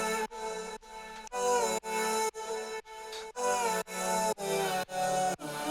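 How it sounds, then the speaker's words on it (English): Stuttering layered vocal sample for a music production, played dry with no effects: short repeated sung chops in a choppy on-off rhythm, clear and upfront with no talking. "So this booky vocal sounds like this without anything on it."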